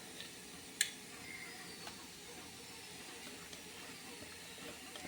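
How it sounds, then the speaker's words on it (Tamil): Steam hisses steadily from an idli steamer pot cooking moong dal puttu, a faint, even rush of vapour with a sharp tick near the start. "இப்போ இந்த ஆவி ஆவியில் இது நல்லா வேகணும் இட்லி குண்டானில் வச்சு நல்லா வேக வைக்கணும்"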